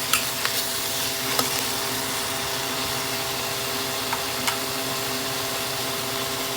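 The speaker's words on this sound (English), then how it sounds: "Too bad I only have this little teaspoon to stir with." Small teaspoon stirring a pot of ramen soup on the stove, a steady low simmering hiss with a few light metallic taps and clinks against the pot.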